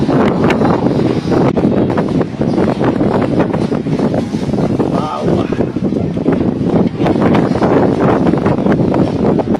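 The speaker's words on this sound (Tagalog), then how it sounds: "Ang lakas ng hangin." A steady, loud roar of strong wind battering the microphone at an outdoor grill cooking chicken barbecue and liempo, gusting unevenly throughout, with people talking underneath.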